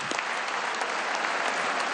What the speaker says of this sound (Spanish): Un aplauso para ustedes y para todos.